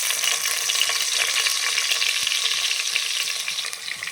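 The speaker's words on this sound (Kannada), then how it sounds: "ಸ್ವಲ್ಪ ಈರುಳ್ಳಿ ಹಾಕ್ಕೊತೀನಿ." Chopped onions hit hot oil in a pan as the base for a mutton keema sambar, hissing in a steady, close, dense sizzle that holds for about four seconds without any talk.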